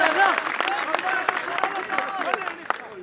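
Applause from a crowd at a night protest sit-in, with uneven bursts of clapping. A voice carries through the clapping, and other voices murmur in the background.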